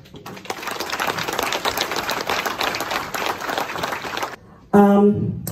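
A crowd at a political campaign event claps steadily for several seconds in a dense, even patter, then it stops abruptly and a voice briefly speaks.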